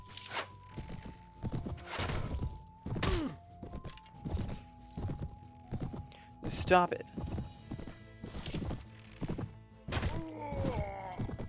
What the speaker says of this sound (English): Stop attacking my horse.